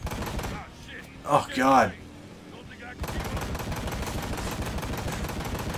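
Video game gunfire in Ride to Hell: Retribution comes in rapid bursts of shots, loud and close, broken by a short spoken exclamation midway before the firing resumes steadily.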